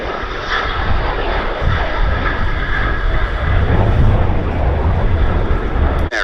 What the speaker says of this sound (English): this is what we see here, the BAC 167 Strikemaster